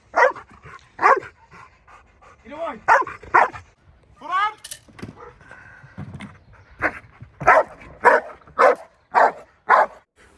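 A protection dog barks and pants during hold-and-bark K9 training in a confined cubicle, with sharp loud barks in bursts and quick panting and whining between them, up close.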